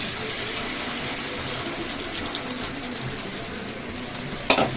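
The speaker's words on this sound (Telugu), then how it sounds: "మన పులుపుకు తగ్గట్టుగా చింతపండు రసం వేసేసుకోవాలి" Tamarind juice pouring into a simmering curry masala, a steady broadband watery rush that holds evenly for several seconds before a brief louder splash at the end, close with no speech.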